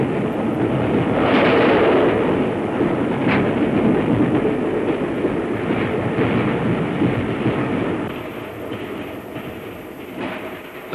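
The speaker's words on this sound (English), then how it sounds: "The train gathers speed." A 1939 LMS steam locomotive hauls a heavy passenger train of about 450 tons as it gathers speed, a loud continuous rumble and rattle of wheels and carriages that eases slightly toward the end.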